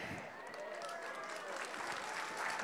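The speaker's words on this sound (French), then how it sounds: "je pense qu'on peut encore une fois les applaudir bien fort, tous nos voltigeurs présents pour ces mondiaux" An audience at the opening ceremony of the 2019 World Aerobatic Championships applauds the aerobatic pilots, giving steady, dense clapping throughout, with voices faintly audible beneath it.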